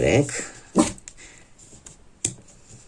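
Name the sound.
small dog barking and whimpering beside the speaker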